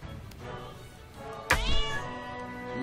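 A cat in the South Park: The Stick of Truth video game lets out a single loud, close meow partway through, over quiet game ambience.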